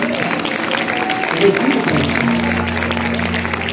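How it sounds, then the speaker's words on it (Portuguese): A church congregation at a family service applauds, a steady wash of clapping from many hands that fills the room, with a voice speaking over it and a low hum settling in toward the end. "dá uma salva de palmas à palavra do Senhor, porque ela merece"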